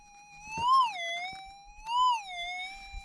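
A pulse induction metal detector sounds off over a target buried in bedrock while gold prospecting: a steady electronic tone swells twice into rising-and-falling warbles, fairly close and clear, with faint handling noises and no talk.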